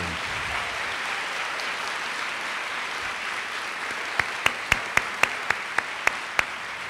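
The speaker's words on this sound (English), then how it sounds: "Let's give another round of applause to our Teachers of the Year." Applause for the Teachers of the Year at a Highland Park ISD school district convocation; a large audience claps steadily at moderate volume, with a few sharper, closer claps standing out near the end.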